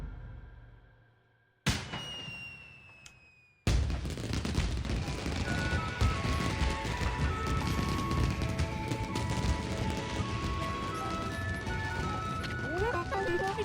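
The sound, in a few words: fireworks exploding in the video game Okami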